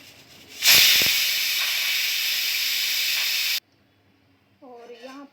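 A pressure cooker cooking mango seed lets out a loud, sustained hiss of escaping steam for about three seconds, then cuts off abruptly, followed by a short stretch of quiet and a voice speaking.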